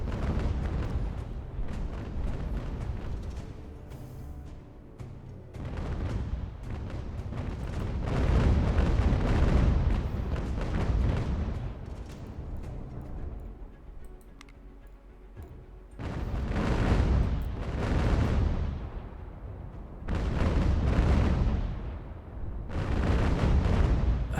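Heavy cannon broadsides boom repeatedly in a video game sea battle between sailing warships in the American Revolution, loud, dense bursts rolling in waves with brief lulls between volleys.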